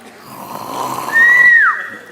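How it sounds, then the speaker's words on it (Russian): A single loud, close snore in a Russian comedy sketch about a snoring sleeping beauty: a rough rasping inhale that rises into a whistling tone and then drops away. "Храпит."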